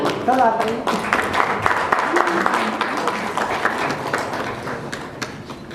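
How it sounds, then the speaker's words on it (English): An audience at an award ceremony applauds a recipient with brisk, steady clapping that carries through the whole stretch, close and fairly loud. "A round of applause"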